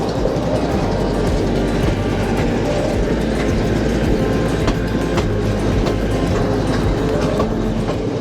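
A passenger train rolls across the Nine Arch Bridge, recorded from on board, with a loud steady rumble and rhythmic clickety-clack of wheels on the rails throughout.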